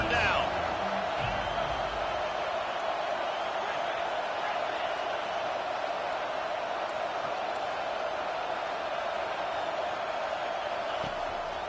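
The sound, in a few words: stadium crowd cheering at American football game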